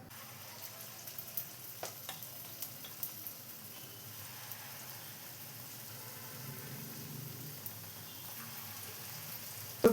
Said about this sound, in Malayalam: ഇപ്പോൾ ഒരു പാൻ വെച്ച് ഓയിൽ ഒഴിച്ച് ചൂടായി വന്നിട്ടുണ്ട്. ഇതിലോട്ട് നമുക്ക് ബാറ്റർ ഒഴിച്ച് കൊടുക്കാം.